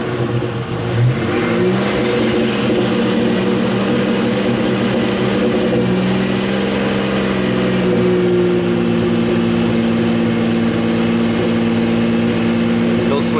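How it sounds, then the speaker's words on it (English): Buick Grand National engine running rough, shaking and misfiring as the throttle is held down, a loud continuous rumble with shifting revving tones over roughly thirteen seconds. "It's kind of shaking, misfiring a bit. I'm gonna hold the throttle down a little bit."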